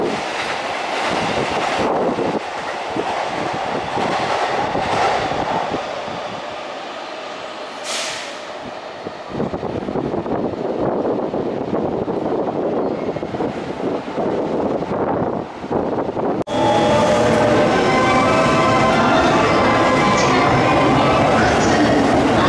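A JR East 251 series train runs at a station platform. Its loud rumble and wheel clatter carry on steadily, with wind buffeting the microphone, and the sound shifts to a brighter, fuller level near the end.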